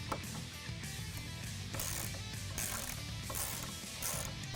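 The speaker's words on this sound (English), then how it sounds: "Use a T40 Torx bit to remove the two bolts holding on the mirror." A ratchet with a T40 Torx bit backs out the bolts holding a side mirror on a Jeep Wrangler JK, giving a close, continuous run of quick clicking pawl ticks with no talking.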